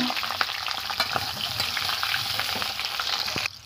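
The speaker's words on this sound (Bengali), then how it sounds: "প্রথমে আমি কেটে রাখা আলুগুলো আমি ভেজে নেব।" Cut potatoes fry in hot mustard oil with a loud, continuous close-up sizzle and crackle, broken by occasional stirring scrapes, before the sound drops away at the end.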